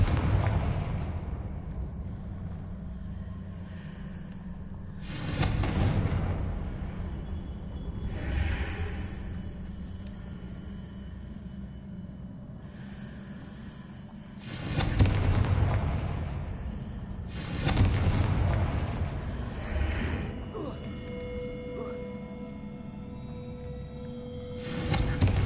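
Fire-spell explosions from the Confringo curse in the Hogwarts Legacy video game, four heavy booming blasts spaced several seconds apart over a low rumbling game ambience, with no talking.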